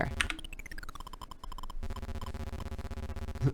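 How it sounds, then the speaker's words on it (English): Buzzy, crunchy bee enemy sound effect from the Metroid Fusion game, layered into busy chiptune-style game audio with rapid pitched blips and a descending sweep, quiet and continuous over a few seconds. "That's the sound of the bees."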